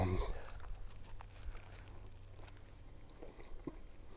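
Someone bites into and chews a fancy grilled cheese sandwich with onion, cooked outdoors, making soft, close, irregular crunching and mouth sounds over a low steady hum, with no talking.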